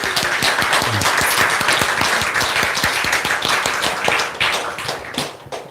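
A church congregation gives sustained applause, dense and steady for several seconds with many hands clapping close together, tapering slightly at the end.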